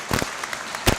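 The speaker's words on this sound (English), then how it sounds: "Let's give them a round of applause." Brief audience applause at a bill signing ceremony held by Georgia's lieutenant governor, a short burst of a few scattered claps, moderately faint, ending in a louder clap.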